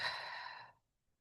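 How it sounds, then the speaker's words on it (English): A single deep breath drawn in and then let out fully in a long, soft, airy sigh, close and quiet during a calm guided meditation, trailing off into silence. "take a nice deep inhale in and exhale completely"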